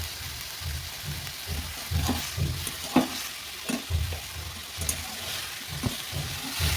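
Small fish frying with turmeric in a pan, stirred in regular scraping strokes over a constant close sizzle with occasional light clinks.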